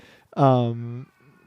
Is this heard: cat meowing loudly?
yes